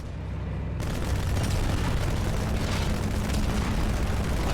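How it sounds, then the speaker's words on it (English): Rocket launcher fire and explosions in Halo 2 Anniversary on PC: a continuous, loud, roaring wall of blast noise that swells suddenly after a short lead-in and stays dense and heavy to the end, with no speech. "Why does he get 3 shots with the rocket launcher?"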